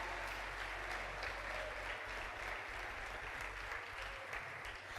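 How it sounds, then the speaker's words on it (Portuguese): Church congregation applauding together in a worship service, a steady, dense wash of clapping from many hands that holds at an even level throughout with no break. "Um minuto aplaudindo e glorificando o nome do Senhor"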